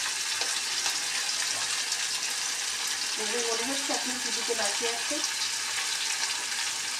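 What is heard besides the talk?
fish frying in a pan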